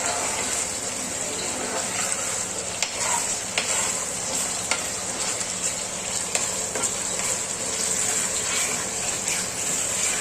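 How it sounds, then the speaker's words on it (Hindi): A homemade cold and cough remedy mixture roasting in a pan while being stirred: steady loud sizzling and frying with intermittent scraping strokes of the spoon, close up. "भून के खूब अच्छे से इसको पकाना है।"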